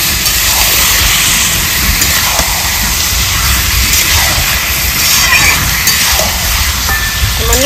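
Mutton pieces hitting a hot pan for a village-style red mutton curry, giving a loud, steady broadband sizzle that holds without a break throughout.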